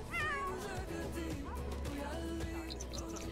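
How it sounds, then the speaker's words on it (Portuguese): A cat in The Sims 4 game gives a couple of clear meows near the start, followed by softer game sounds at low volume. "Ele tá miando."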